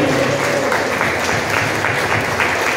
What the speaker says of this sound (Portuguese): Agora eu convido toda a igreja a dar a mais forte salva de palmas ao Senhor Jesus.